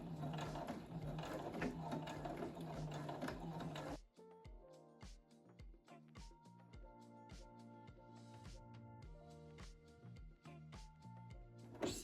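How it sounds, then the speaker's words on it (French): A sewing machine stitches skirt flaps, first with a dense whirring run, then a rhythmic series of loud mechanical clacks and needle thumps, close and unaccompanied by speech. "Bon, bah c'est parti, je vais coudre ça."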